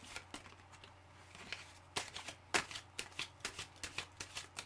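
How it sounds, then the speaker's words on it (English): Tarot cards riffled and shuffled in a steady rhythm of quick crisp snaps, close up and fairly soft, with no talking. "Sorry, I need another shuffle."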